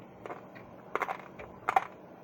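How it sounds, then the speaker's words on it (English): Quiet, crunchy chewing of creamy chicken pesto pasta comes in a few short bursts, like bites of something hard, close to the mic. "that is the sound of me eating that pasta"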